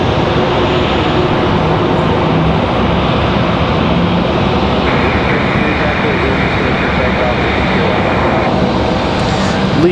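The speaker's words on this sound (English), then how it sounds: "Pilatus PC-12 coming in from Lynchburg" A Pilatus PC-12 turboprop arriving from Lynchburg at Raleigh Durham airport, its engine a steady, loud broadband roar that holds for the whole stretch, with a voice talking over it.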